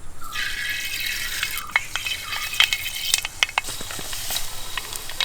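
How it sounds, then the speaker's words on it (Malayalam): Mustard seeds dropped into hot sesame oil for a fish pickle crackle and sizzle steadily up close, with sharp scattered pops breaking through the hiss. "എണ്ണ ചൂടായി. ഇനി നമുക്ക് കടുക് ചേർത്ത് കൊടുക്കാം."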